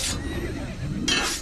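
A horse in the Assassin's Creed video game gives a short, bright whinny that recurs near the end of the brief moment, with game audio running underneath.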